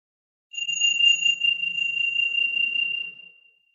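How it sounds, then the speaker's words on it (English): A meditation chime rings once at the start of a mindfulness practice for mood and pain management, a clear sustained bell tone that holds steady for about three seconds and then fades away, close and alone with no talk. "So when the chime is completed is when the practice will start."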